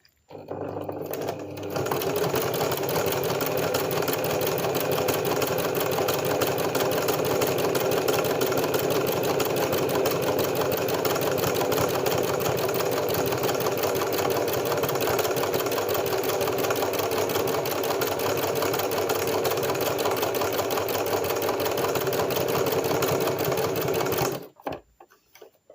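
A domestic sewing machine embroiders a sunflower design, its needle hammering in a fast, even mechanical chatter that runs steadily and close for over twenty seconds before stopping abruptly.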